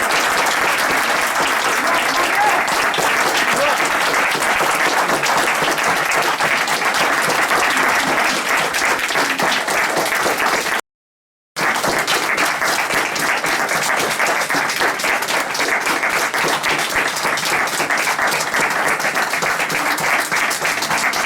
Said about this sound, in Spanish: Yo les agradezco mucho los aplausos